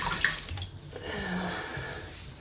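Wet yarn squeezed out by hand over a walnut husk dye bath, liquid splashing and trickling steadily back into the bath for a couple of seconds, close and fairly quiet.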